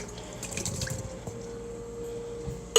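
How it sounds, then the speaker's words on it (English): Canned cherries and their syrup being poured into a container in a home kitchen while making pound cake, a wet, splashy pour loudest in the first second, then a fainter trickle with a steady background hum. "I'm just pouring this whole thing in here."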